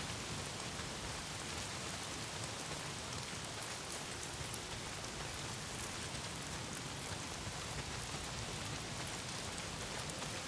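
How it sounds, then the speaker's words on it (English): Steady heavy rain pours in the video game Days Gone, a constant dense hiss filling the scene evenly throughout, with no speech over it. "Well, not if it's pissing down rain."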